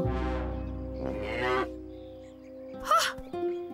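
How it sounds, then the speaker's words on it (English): Cartoon cows low and moo in a children's animated farm episode: a long drawn moo, then a second rising bellow and a shorter call, close and clear, with no talk over them. "Those cows are just cranky."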